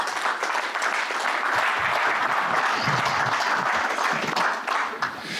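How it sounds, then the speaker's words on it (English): A conference audience applauds a panel of seed-industry speakers with steady, dense clapping that stays loud and even from start to finish, with no pauses. "A big round of applause for our wonderful panelists"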